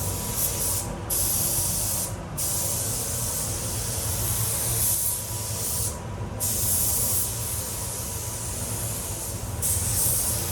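A spray gun hisses continuously as it lays white base coat on the roof of a Honda Civic FN2 Type R, the steady spray briefly dropping out a few times between passes.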